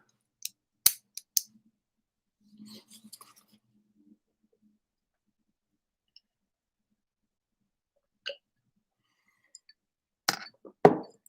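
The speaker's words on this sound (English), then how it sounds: "I hit the keyboard." A computer keyboard gets hit by accident during a live stream, giving a few sharp, close clicks and taps spread across long stretches of near silence, with a final cluster of clicks at the end.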